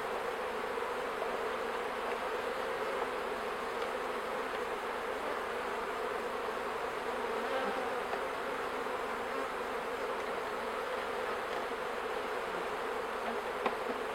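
Honey bees of the Buckfast breed hum steadily at an opened hive during a spring transfer from a nucleus box to a full hive, a dense, continuous near buzz with no talk.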